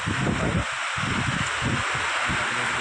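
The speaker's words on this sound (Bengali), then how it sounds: "দমকা হাওয়া দিচ্ছে, ঝোড়ো হাওয়া হচ্ছে" Strong gusty wind buffets the microphone at a railway station platform, with low rumbling blasts rising and falling in uneven bursts over a constant rushing hiss.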